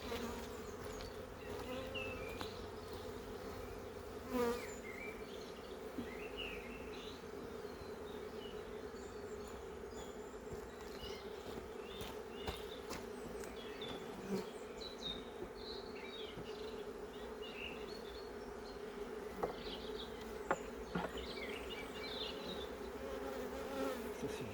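Honeybees swarm around an opened hive as brood frames and the queen's frame are lifted out. A dense, steady buzz fills the air at close range, with scattered clicks from handling and no speech.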